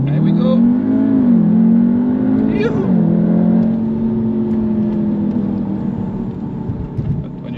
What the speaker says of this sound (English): And what you can do as well is launch control. And I love launch control. I put in ASC off. And I press the throttle.